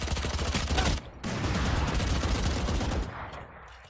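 Gunfire in Valorant, dense rapid shots in loud sustained bursts with a brief gap, then trailing off into quieter ambience.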